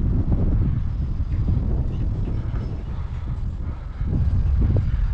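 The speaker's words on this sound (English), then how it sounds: "We have really strong winds today" Strong wind buffeting an outdoor microphone during the flight of a small UMX A-10 Thunderbolt II radio-controlled plane, a loud continuous low rumble with gusty surges and a faint distant motor whine.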